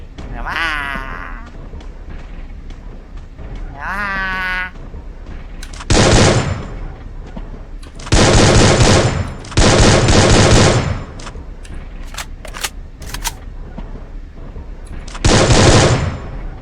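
Video game gunfire in a vehicle-battle match, with several loud bursts of machine gun fire, each lasting about a second, separated by pauses, and a voice speaking near the start.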